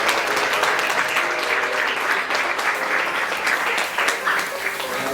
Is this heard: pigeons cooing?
no